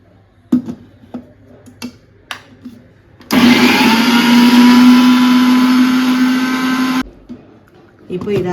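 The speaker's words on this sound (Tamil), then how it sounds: "இப்போ இதை வாங்க அரைச்சிட்டு வந்துடலாம்." A kitchen mixer grinder whirs loudly for several seconds while grinding green chillies, cumin, pepper and lemon juice into a paste for fish fry, starting abruptly after a few clicks and knocks and stopping just as suddenly.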